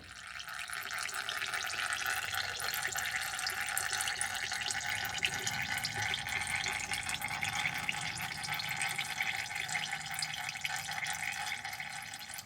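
Transmission fluid from a TH350 automatic gearbox in a 1973 Nova runs into a drain pan underneath, a steady, even trickling wash that holds unbroken for the whole stretch with no voices.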